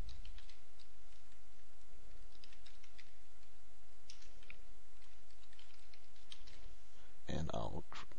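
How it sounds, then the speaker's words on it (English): Steady clicking of computer keyboard keys as a username and password are typed, quiet and close in a calm room, ending with a short louder burst of keystrokes. "I'll go down here and type in a username and a password, and I'll type in my email address"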